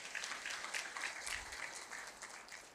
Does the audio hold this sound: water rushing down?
no